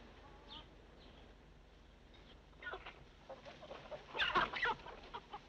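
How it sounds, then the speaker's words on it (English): Several farmyard chickens cluck and squawk nearby, sparse at first, then a louder busy flurry of calls toward the end, with faint background noise underneath. "It's always good to have a few chickens on a reception committee, ain't it?"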